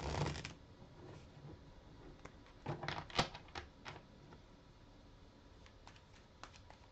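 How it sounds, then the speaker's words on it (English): Tarot cards being shuffled by hand, soft papery riffles and taps in irregular bursts, faint and close, with no talking. "so now shuffling and going to the next four."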